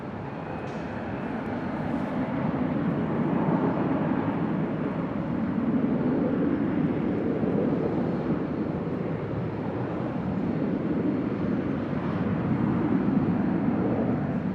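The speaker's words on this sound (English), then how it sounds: "It's an E175LR. Next departure here on 24 left." An Embraer E175LR jet departs from runway 24 left at Los Angeles International Airport, heard as a steady broad engine roar at moderate distance that holds level throughout without a break.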